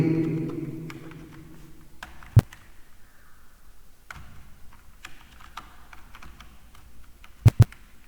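Keys on a computer keyboard tap in a short run while a search term is typed into accounting software, with a few sharper isolated clicks afterward.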